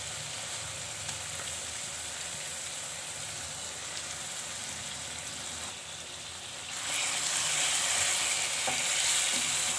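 Chicken kebabs frying in spices in a pan, a steady close sizzle with stirring that grows louder and brighter toward the end.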